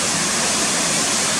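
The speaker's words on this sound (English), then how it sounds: "A nice bird's eye shot of the waterfalls coming down SWINNERGILL." Waterfalls tumbling down Swinner Gill in the Yorkshire Dales make a steady, dense broadband rush of water, loud and continuous, with no voices over it.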